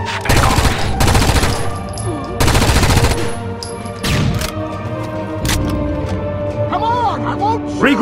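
Heavy bursts of automatic gunfire in Rainbow Six Vegas in Dante's Casino, several loud close volleys separated by short gaps, mixed with shouted voices and game music.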